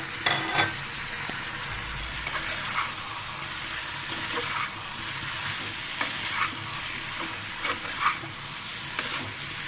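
Chicken meat and vegetables sizzle and fry in a pan, stirred with steady scraping and clinks at a close, even level, with no talking.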